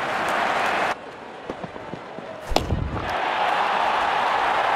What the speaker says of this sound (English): Made a cracking sound of the bat.